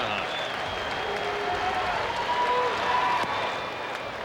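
Baseball fans at an Angels game in Anaheim stadium keep up steady rhythmic clapping, a distant crowd texture in the background with faint whistles riding over it.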